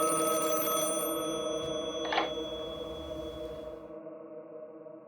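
A telephone rings with a sustained, resonant bell tone that fades away over several seconds, heard alone and fairly close before trailing off into silence.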